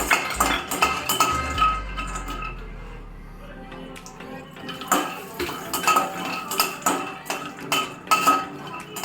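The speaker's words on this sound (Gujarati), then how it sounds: "હવે જે તેલ વધ્યું છે એમાં આપણે એડ કરીશું કાજુ." Cashews roast in leftover oil in a pan with repeated metal-on-metal clinks and scrapes of a stirring spoon against the pan throughout, close and busy.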